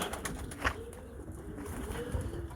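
Tumbler pigeons entering a loft give quick bursts of wing flapping with soft cooing murmurs, faint and close against a low background hum.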